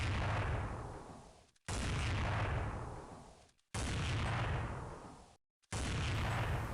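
AWP sniper rifle firing in Counter-Strike 1.6, four loud single booming shots spaced about two seconds apart, each followed by a long fading tail and then a short silence.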